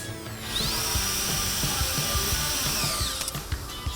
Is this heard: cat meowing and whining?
no